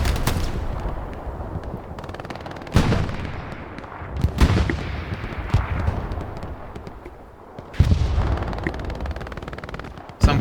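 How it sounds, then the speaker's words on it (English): Explosive blasts from a World War II shooter set in winter fields near a beach, with a rocket striking an engineer on a tank; several sharp, loud booms over a steady rumble of battle. "that was actually a very good rocket snipe that landed on the engineer who was on the tank"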